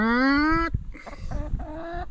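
Chicken calls: a long rising squawk at first, then a few shorter clucking cries close by after a brief pause.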